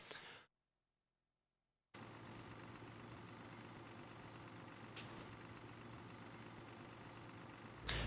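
A tractor engine in Farming Simulator 15 drones loud and steady, cutting out briefly near the start before resuming, with short hissing bursts like an air release partway through and at the end.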